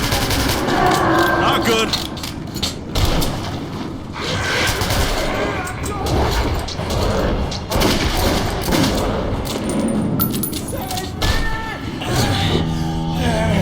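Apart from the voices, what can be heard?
gunfire in the video game Metro 2033 Redux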